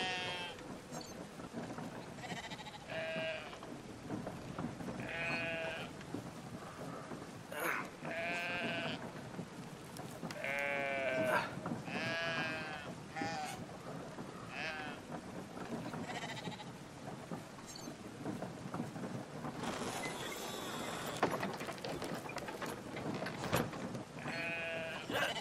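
Sheep bleat repeatedly in the video game Brothers: A Tale of Two Sons, over a noisy, rumbling outdoor background, several wavering cries overlapping at moderate distance.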